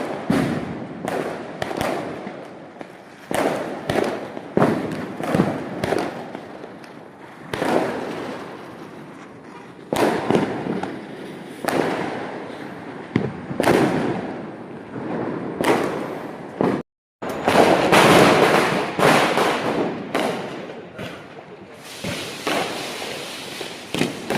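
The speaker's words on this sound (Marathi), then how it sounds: "आता इथे माझ्या आहे मुलाला फटाके फोडायचे होते म्हणून तो त्याच्या पप्पांसोबत फटाके फोडत होता" Diwali firecrackers burst one after another outdoors at a home celebration, loud crackling bangs and thumps arriving in dense clusters with brief gaps between volleys.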